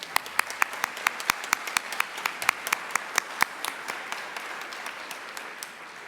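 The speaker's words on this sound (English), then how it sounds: "let's give them another round of applause" Audience applause honoring the 2019 Dennis Falk Ambassador Award winners at an R&D Summit, heard as a steady wash of hand claps with sharp individual claps standing out, gradually thinning toward the end.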